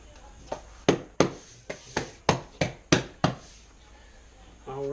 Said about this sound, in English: I'll just place the whole row in at one time